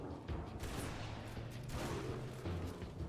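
Heavy gunfire in a video game, a dense, continuous barrage of overlapping shots and booms that stays loud and close for the whole stretch.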